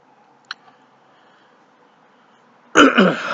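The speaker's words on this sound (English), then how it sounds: "Had a cough." A single loud cough or throat clearing bursts out near the end, close and sharp, after a few seconds of near silence broken only by a faint tick.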